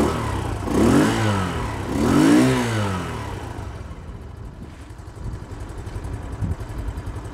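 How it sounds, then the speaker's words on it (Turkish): Exhaust of an Arora Smart 50 cc four-speed semi-automatic motorcycle: two loud revs rise and fall in the first few seconds, then the engine settles into a steady, softer idle close by. "İsterseniz bir egzoz sesini dinleyelim."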